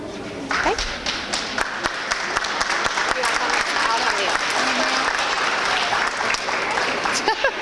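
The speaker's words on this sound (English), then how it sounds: "let's give her a big round of applause for putting on the talent show again this year" An audience at a school awards ceremony claps steadily in warm, sustained applause with a few sharp individual claps standing out, and a voice speaks briefly beneath it.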